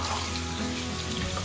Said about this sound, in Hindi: अब जो मेरे पास चिकन मौजूद है मैं इसके अंदर वो डाल दूँगी।